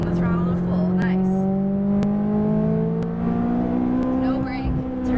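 A McLaren 570S on a race track, its engine accelerating with a steady rising tone that climbs in pitch over several seconds, loud and close, while a driving instructor talks over it.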